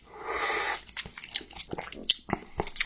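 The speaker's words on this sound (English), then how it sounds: "Ooh, and the seaweed is cut in the perfect size. Crunchy, but not like hard to eat." Crunchy seaweed salad chewed close to the microphone, a short burst of loud crunching followed by scattered wet bites and smacking sounds, with no talking.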